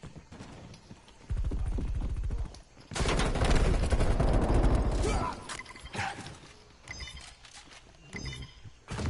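Gunfire in Call of Duty: Cold War team deathmatch: loud bursts of rapid automatic fire and mechanical clatter, with a long sustained burst in the middle and quieter scattered shots afterwards.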